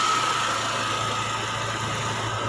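A Honda Click automatic motor scooter engine runs steadily on its own, a continuous close, loud mid-pitched drone with a faint whine and no pauses or speech.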